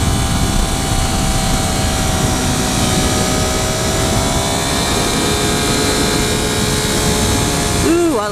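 A 2013 Triumph Daytona 675R motorcycle being ridden on a road, a steady loud engine drone with rising and falling pitch under heavy wind rush, continuous throughout.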